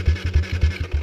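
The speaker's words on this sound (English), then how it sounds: "why you should get a pit bike with electric start. Because of this." Kawasaki KLX 110 pit bike engine with electric start, giving a rapid series of about six low, rhythmic thumping pulses, close and fairly loud, with no talk.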